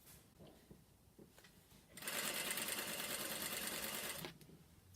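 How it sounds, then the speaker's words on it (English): A sewing machine stitches fabric for welt cord, running in one steady, fairly loud whir of a little over two seconds after some quiet handling noises, with no voices. "you will want to go over and do a second stitch, just to make sure it's going to be reinforced"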